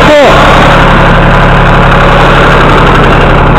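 An engine-driven pump draws groundwater on a station near Alice Springs, running loud and close with a steady droning hum after a brief starting sweep.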